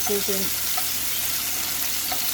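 Garlic and onion stir-frying in a pan for shrimp fried rice give off a steady, even sizzle, with a couple of brief tonal blips early on and no talking.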